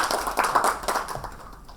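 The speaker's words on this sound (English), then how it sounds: "Big round of applause." Audience applause greets the final panelist being introduced at a panel session on Indian heirloom rice, a short burst of dense, fairly loud clapping that swells and then tapers off.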